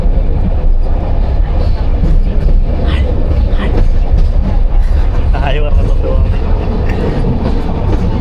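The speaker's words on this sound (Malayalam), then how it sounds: "കണ്ടോ നമ്മുടെ ട്രെയിൻ സ്റ്റാർട്ട് ചെയ്തത്" A train rumbles steadily along the tracks in Africa, loud and continuous, with passengers talking over the noise inside a crowded carriage.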